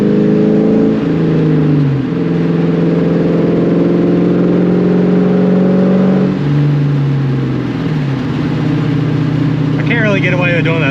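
A New Edge Mustang GT with a catless X pipe accelerates hard in first gear, its loud exhaust rising in pitch through two steady pulls, each ending in a drop before climbing again.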